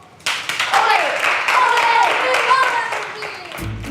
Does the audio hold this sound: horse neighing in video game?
no